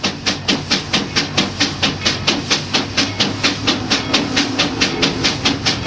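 A steam traction engine at Rollag, Minnesota, runs under brake load on a torque test, its exhaust chuffing loud and near in a fast, even beat of about four sharp hissing puffs per second over a low rumble.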